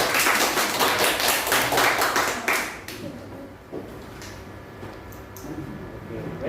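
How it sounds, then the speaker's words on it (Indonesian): Classroom applause, a dense burst of many hands clapping for about two and a half seconds, then fading into quiet room noise and a few scattered taps. "Kasih tepuk tangan yang meriah dulu."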